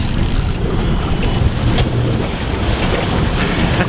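Strong wind buffets the microphone in a steady, loud roar, with rushing water and hull noise on open sea beneath it while fishing for brown trout off Bornholm.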